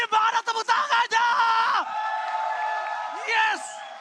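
Live esports crowd at Taman Ismail Marzuki during the M5 Mobile Legends grand final cheers and whoops loudly in surging bursts, close and continuous, with a caster's excited voice rising over the roar.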